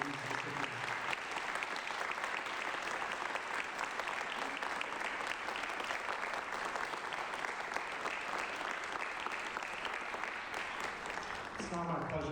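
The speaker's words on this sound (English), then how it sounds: "A round of applause for these recipients." Sustained audience applause for scholarship recipients at a university celebration, a dense even roar of clapping lasting about twelve seconds with a voice emerging at the end.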